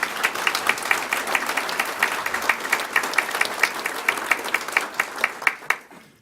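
Audience applause at a State of the Community gathering, a dense steady wash of many hands clapping close by with sharp individual claps standing out, fading away at the very end.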